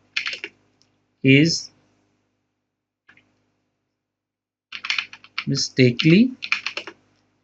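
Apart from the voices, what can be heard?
typing on a computer keyboard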